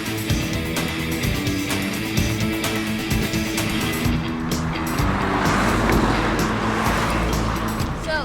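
Car driving on the mountainous section of a legendary road circuit on an island, with a steady, loud engine drone and road noise close up throughout, shifting slightly in tone midway.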